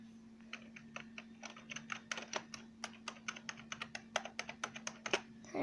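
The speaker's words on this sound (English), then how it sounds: "It's a keyboard" Someone types on a Macintosh computer keyboard. Quick, uneven clicks of the keys land in short bursts over a faint steady hum, fairly close and clear.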